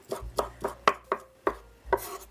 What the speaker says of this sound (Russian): Сейчас порежу мелко зеленый лук.